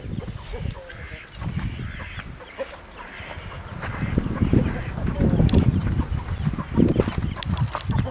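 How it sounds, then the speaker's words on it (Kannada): Salem breed chickens and a rooster cluck and call in a farmyard pen, a busy overlapping chorus at close range with someone talking over the birds. "ಇವಾಗ ಅದು ಸೇಲಂ ಕೋಳಿ ಸರ್ ಅಲ್ಲಿ ಪಕ್ಕದ ಕೋಳಿ ಇದೆ ನೋಡಿರಿ"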